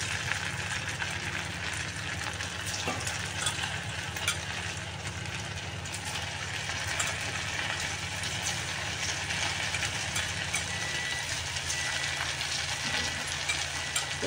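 Fasting-recipe fritters deep-frying in hot oil, a steady, close bubbling sizzle with light crackle that runs on without letting up, and no voices.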